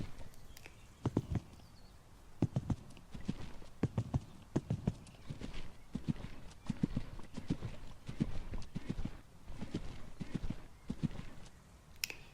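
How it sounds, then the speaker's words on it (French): Horse hoofbeats in the video game Equestrian the Game, a steady, rhythmic clip-clop of a horse moving at a gallop, clear and close and repeating evenly with no talking. "Je lui demande de repartir au galop."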